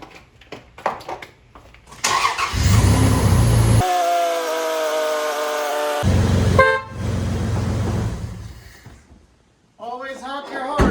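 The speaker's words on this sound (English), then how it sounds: "Always honk your horn to tell your partner you're finished" A car horn sounds in long sustained blasts, loud and close, with short gaps and engine noise between honks, in a car repair shop.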